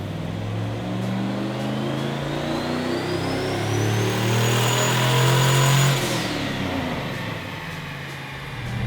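Swapped, turbocharged '99 Ford Ranger engine revving hard on a dyno at low boost, a loud steady drone rising in pitch for about six seconds with a turbo whine climbing above it, then dropping off as the pull ends.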